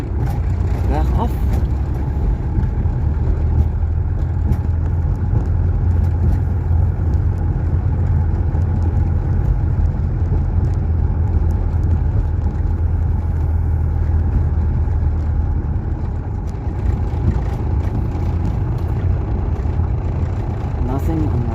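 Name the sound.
car driving down a road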